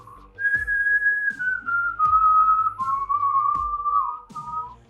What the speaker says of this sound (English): Kind of sounds like he was whistling